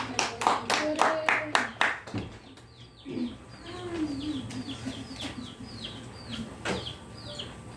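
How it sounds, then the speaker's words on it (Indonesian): A classroom of schoolchildren claps hands in a quick, rhythmic series of sharp claps for about two seconds. The claps stop and give way to clucking chickens and chirping birds in the background. "Kita beri tepuk tangan."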